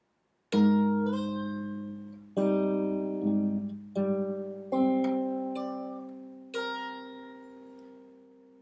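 Fingerstyle acoustic guitar picks out a slow phrase from a song, with about six separate plucked notes and chords that each ring and decay, played alone and up close.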